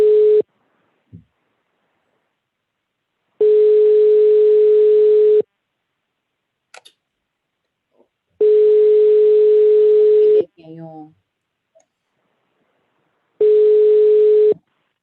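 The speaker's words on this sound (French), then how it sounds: "Il y a un problème avec le téléphone pour Ricardo" A telephone busy signal on a call repeats as long steady tone bursts separated by silent gaps of a few seconds. Brief faint voice fragments and clicks occur between the tones.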